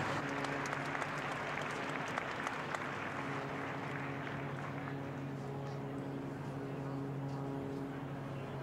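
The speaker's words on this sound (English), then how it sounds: "Let's give him a big round of applause." A crowd applauds steadily around the main ring of the Great Yorkshire Show, an outdoor agricultural show, with dense, sustained clapping over a low droning hum throughout.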